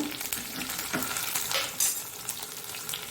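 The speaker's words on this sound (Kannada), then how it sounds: "ಬೆಳ್ಳುಳ್ಳಿ ಬ್ರೌನ್ ಕಲರ್ ಆಗ್ತಾ ಬಂತು." Garlic sizzling and browning in hot oil in a pan, with dried Byadgi chilli, for a Mangalore-style horse gram saaru; a steady near crackle of frying runs throughout, with brief stirring scrapes and no voices.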